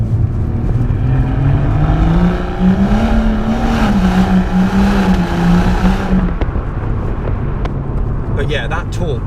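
A BMW M140i's engine and exhaust drone steadily from inside the cabin while driving, muted and rising and falling with throttle, with voices talking over it before the sound drops away near the end.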